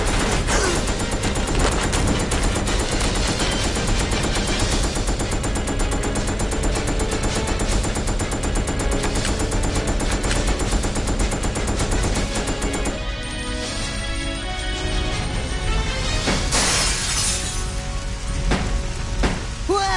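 Sustained gunfire in Resident Evil Code Veronica X on PS2, a loud, continuous barrage of rapid shots for most of the stretch, thinning near the end to scattered bursts and game sounds.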